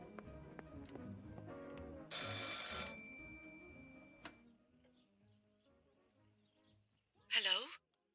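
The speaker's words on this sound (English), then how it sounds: "I should pick up the phone but remain silent." An old telephone rings in the video game Martha Is Dead, with several rapid bell trills over soft ambient sounds and footsteps, then a louder sharp burst near the end.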